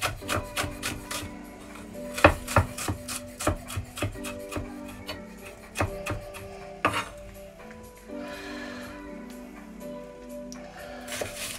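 Knife chopping vegetables on a cutting board: a run of quick, irregular knocks and taps at close range, some louder thuds mixed with softer scraping, without speech.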